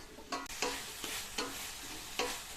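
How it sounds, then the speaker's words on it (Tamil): Potato pieces with tomato being sautéed in a pan for pulav, a soft sizzle under repeated scraping and stirring strokes, close and fairly quiet, with no voices. "இந்த உருளைக்கிழங்க நல்லா வதக்கி விட்டுக்கணும்"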